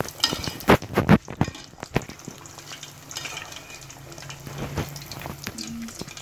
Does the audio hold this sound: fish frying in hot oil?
yes